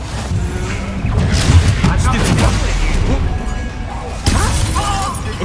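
A Bombarda blast spell in Hogwarts Legacy, a loud booming, shattering burst followed by crumbling debris, with a second sharp impact later, amid in-game voices and combat noise.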